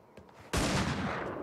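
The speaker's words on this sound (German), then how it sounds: "von oben kam ein Schuss auf mich runter" A loud gunshot from the video game The Showdown Effect bursts out suddenly and then rings on as a sustained, noisy blast of sound, after a quieter lead-in with faint clicks.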